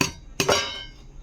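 Metal lid lifted off a hot steaming container of Shillong-style Bengali fish bhapa, giving a sharp clink and a rattling scrape that quickly fades, heard close and alone.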